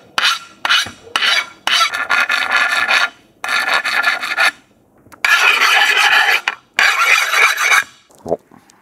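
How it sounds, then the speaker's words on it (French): Metal file rasping a sharp cut edge: a series of loud, scratchy strokes in uneven bursts separated by short silences, with a faint knock near the end. "on va limer un peu."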